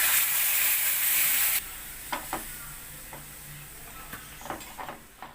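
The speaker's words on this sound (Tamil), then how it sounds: "இப்போ வறுத்ததுக்கப்புறம் இதில் வந்து ஒரு 1/2 கப் அளவுக்கு பால் ஊற்றிக்கணும்." Milk pours into roasted maida flour in a hot pan with a brief loud sizzling hiss, then quiet scrapes and taps of stirring follow at irregular intervals.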